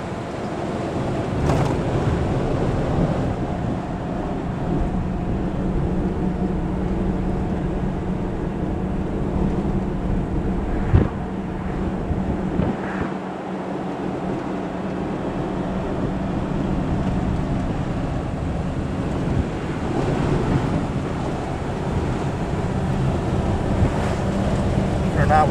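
Cabin sound inside a 1937 Ford V8 car cruising at about 45 mph, a steady low engine drone and road rumble mixed with wind rush, continuous and moderately loud.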